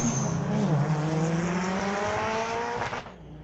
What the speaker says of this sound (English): sounds like he's having a little trouble with the gearbox